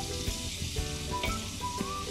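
Onions and bell pepper fry in a pan with a steady close sizzle and occasional soft stirring scrapes, no voices over it.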